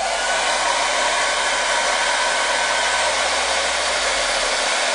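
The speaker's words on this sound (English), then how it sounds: "You'll hear not a lot now but a hairdryer" A hair dryer blows steadily and loudly from start to end, used to heat and loosen a pedal steel guitar fretboard, with a constant broadband rush and no pauses.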